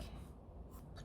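Oil pastel dragging across paper as carnation petals are drawn, a continuous close, soft waxy scraping with a few brighter strokes, heard alone without talk.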